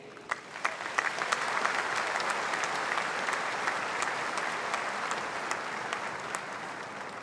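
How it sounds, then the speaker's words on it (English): An audience at a university graduation ceremony applauds continuously, a dense patter of many hands clapping at steady volume from start to finish. "Another round of applause, please, for Kate Reid."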